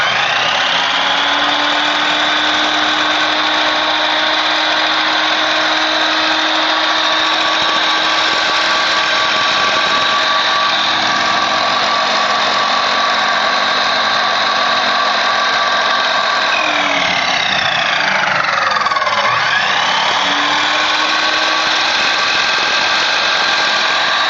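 A 12-inch double-bevel sliding compound miter saw with laser guide running at full speed, a loud steady motor whine that holds, then dips and recovers as the blade bites and cuts through.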